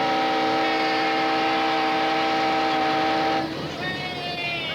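The Ghan train pulls out of Marree on narrow gauge track in outback Australia, a sustained horn-like drone sounding steadily before giving way to a rougher rumbling, with a second tone rising near the end.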